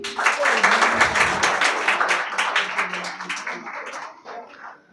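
Audience applause at a book launch event, a dense burst of clapping from a seated crowd that rises quickly, holds steady and tapers off near the end.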